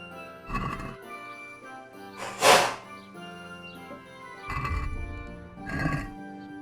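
A horse in the medieval video game Kingdom Come Deliverance gives a loud whinny and snorting calls among clip-clop and tack jingles, several bursts spread over the moment.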